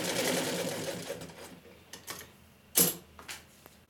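PMZ-1A sewing machine stitching, a dense rapid mechanical whirr for the first second and a half that fades, followed by a few scattered clicks and one sharper clatter.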